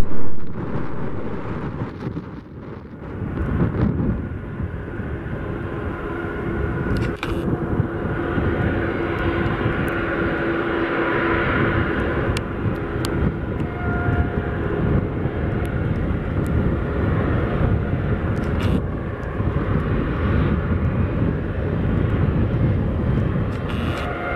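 A Volga-Dnepr Ilyushin IL-76 cargo jet lands at Montreal-Mirabel, its loud, continuous engine roar and rushing broadband noise filling the whole stretch close by, with a brief lull early on and no talk.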